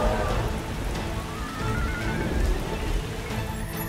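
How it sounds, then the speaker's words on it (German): Steady heavy tropical rainstorm, a dense broadband hiss of rain on surfaces that stays loud and even throughout, with no voices and no clear thunder. "Es ist auch der Monat der tropischen Regenstürme."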